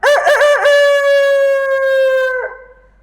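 A human voice imitating a rooster crowing, one loud sustained cock-a-doodle-doo with a wavering start and a drop at the end, close to the microphone.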